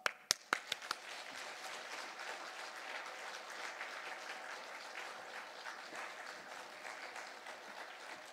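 A church congregation at a Sunday afternoon worship service breaks into applause to welcome the pastor, opening with a few sharp single claps before settling into steady, sustained clapping across the room.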